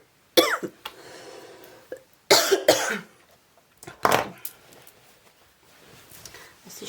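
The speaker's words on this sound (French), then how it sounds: "Si je me mets à tousser." Several separate coughs, close and fairly loud, come in spaced bursts with short quiet gaps between them, the later ones softer.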